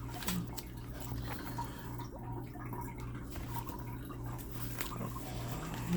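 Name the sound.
cat's automatic water bowl running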